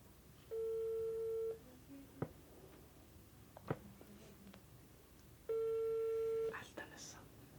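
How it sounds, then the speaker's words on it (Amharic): A phone call placed to a mother's number rings over a loudspeaker: two long steady ringback tones, about a second each, separated by a pause, with a few clicks and faint background voices between them. "አሁን እናቱ ቁጥሩን ደውለናል። ላውድ ስፒከር ላይ እናደርገዋለን።"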